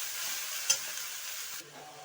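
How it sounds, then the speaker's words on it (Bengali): Punka greens being stirred in a hot pan, a soft steady sizzle with one sharp utensil clink early on, the frying noise dropping off abruptly near the end. "কেটে রেখেছি পুনকার শাকগুলো ওর মধ্যে দিয়ে দিলাম। দিয়ে এটা 2-1 মিনিট নাড়াচাড়া করতে হবে।"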